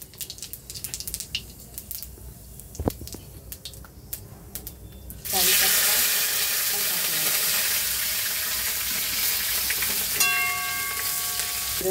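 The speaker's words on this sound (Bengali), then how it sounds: "এই যে একটু জিরা দিলাম" Cumin seeds drop into hot oil in a home kitchen, where peanuts were fried first. After a few seconds of quiet clicks and handling, a loud, bright sizzle erupts suddenly and holds steady to the end.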